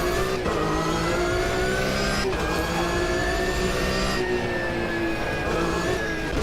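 Race car engine in a racing video game, revving hard with rising and falling gear-shift pitch sweeps as the car takes corners, loud and steady throughout with no talking.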